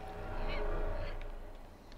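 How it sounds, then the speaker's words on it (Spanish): In the video game Dragon Age: Inquisition, a bird gives two short, honking squawks about half a second apart over a low game ambience, moderately loud and with no voice present. "Mira el puto pájaro."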